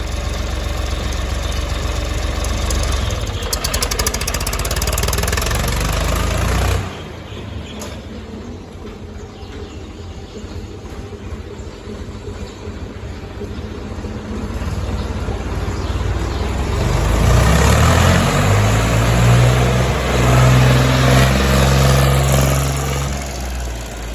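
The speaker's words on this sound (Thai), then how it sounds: "เครื่องนิ่มๆติดง่ายๆครับผม" A Champ farm tractor's engine runs steadily and loudly, close by, with no voices. It dips briefly in the middle, then revs up into a heavier, deeper roar near the end.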